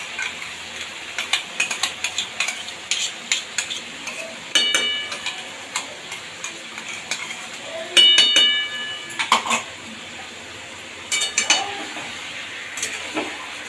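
A spoon scrapes and clinks against a pan while chicken is stirred with ginger-garlic-tomato paste, irregular metallic taps and scrapes over a soft frying sizzle, close by, with no talking.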